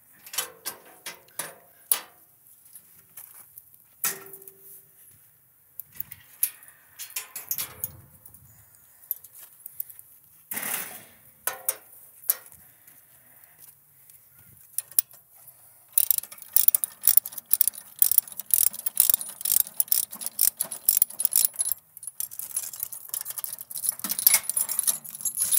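Ratchet straps being released and unhooked on a trailer carrying a mini excavator, close metallic clicks, rattles and clanks in irregular bursts that grow busier and denser toward the end.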